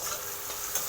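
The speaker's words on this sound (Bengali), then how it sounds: "এরপরে পেঁয়াজটা লাল লাল করে ভেজে নেব।" Chopped onions frying in hot oil with garam masala, browning until reddish; a steady close sizzle with faint stirring, continuous and without voices.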